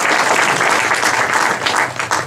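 A tech meetup audience at a Mobile Monday Silicon Valley event on mobile photo and video claps for sponsors ArcSoft and AOL, a dense close burst of applause filling the whole stretch with no voices over it.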